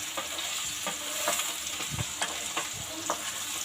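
Sliced tender ridge gourd tossed into potatoes frying in oil, a close sizzle broken by several sharp scraping stirs of a spatula against the pan.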